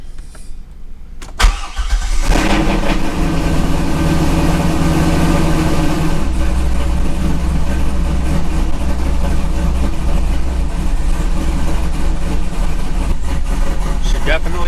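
A 1997-98 C5 Corvette engine just after a PCM swap cranks briefly, catches and settles into a loud, steady, slightly rough idle that continues throughout.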